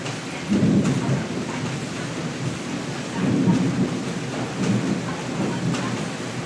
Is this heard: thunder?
yes